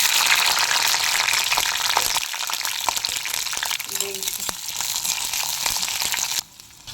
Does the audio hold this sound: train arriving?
no